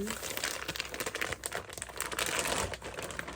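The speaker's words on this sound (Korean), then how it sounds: "또 다시 찾아온 택배 언박싱." Plastic delivery packaging crinkles and rustles steadily at close range as a parcel is unboxed, dense and continuous throughout.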